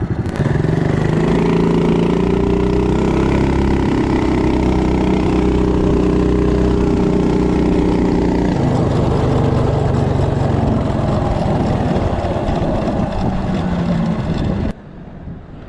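Coleman CT200U-EX mini bike with a torque converter accelerating from standstill to 30 mph, a loud close engine roar that rises and changes tone partway through before cutting back near the end.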